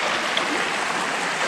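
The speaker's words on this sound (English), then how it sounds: "I'm also hoping that the sound of the creek doesn't overpower the sound of my voice" Creek water flows near a homestead chicken coop as a steady, close rush and gurgle, even and continuous, with no talk.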